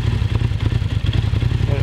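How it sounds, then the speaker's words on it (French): A Yamaha MT-07 engine runs close by with a Healtech quickshifter cutting the ignition, giving a choppy, stuttering mid-pitched throb with rhythmic clatter throughout. "Maintenant, moteur tournant, on va tester que la coupure de moteur fonctionne."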